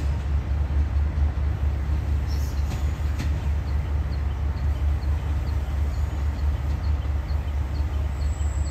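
Train No. 167 arriving at Surat Thani station in Thailand, a loud continuous low rumble of rolling railcars with a few faint squeals and distant chirps above it, no talking.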